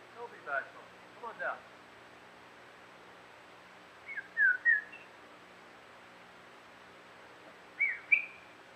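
A few short whistled phrases separated by long quiet gaps, thin and distant against a faint hiss of outdoor background in the woods of the Sierra.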